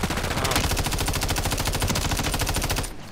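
Rapid automatic gunfire from the Warzone video game, a loud, continuous burst of shots rattling steadily for nearly three seconds before cutting off abruptly.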